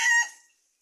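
A seven-month-old chicken fed animal corn lets out a brief crowing call that cuts off and fades quickly, close and fairly loud.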